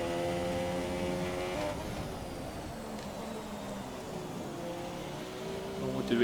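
Formula 1 car from the F1 2017 racing game held at full throttle on a wet track, a steady loud engine drone with harmonic whine running continuously, slight pitch shifts, rising at the very end.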